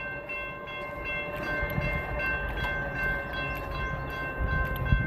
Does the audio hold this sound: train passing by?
yes